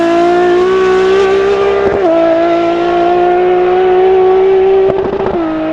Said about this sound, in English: a naturally aspirated screaming V12